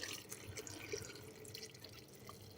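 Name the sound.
water being poured into a soup maker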